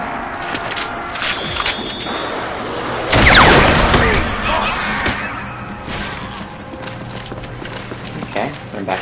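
Fireworks going off outside, heard indoors over video game audio: a loud crackling burst of bangs around the middle, with scattered fainter pops before and after against a steady background.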